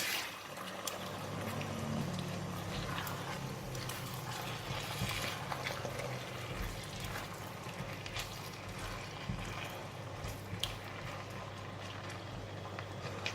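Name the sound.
beef and vegetables stir-frying with black pepper in a wok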